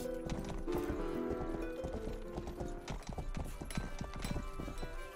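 Horse hooves clip-clop steadily and loudly throughout a medieval video game scene in Rustler, with a whinny early on amid game sound effects.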